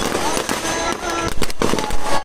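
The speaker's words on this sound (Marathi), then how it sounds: "इथे फटाक्यांची आतिषबाजी होते आहे" Firecrackers and fireworks go off at the Kunkeri Hudotsav village festival in a crowd, a loud, dense burst of crackling bangs with several heavy pops close by.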